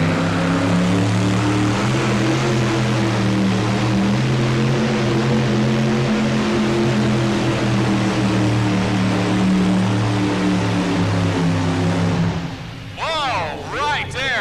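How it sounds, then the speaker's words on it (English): Tractor pull engines at the 1992 National Farm Machinery Show make a loud, sustained droning roar that holds steady, then drops away as a voice comes in near the end. "You can just hear those engines really start to come down more and more"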